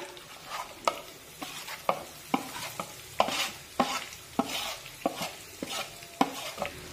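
Stuffed eggplants with leftover masala sautéed over a low flame, with a quiet sizzle under a regular series of sharp spatula scrapes and taps against the pan.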